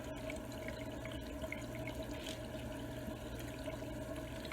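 Tap water running into a kitchen sink while bread dough is being prepared for a no-knead Dutch oven loaf, a steady faint hiss and trickle with no talking.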